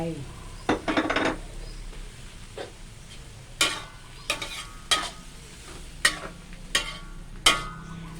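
Carrots and vegetables being stir-fried in a pan, with a faint sizzle under a series of sharp clanks and scrapes of a utensil against the pan at irregular intervals.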